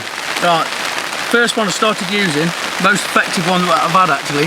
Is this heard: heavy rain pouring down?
yes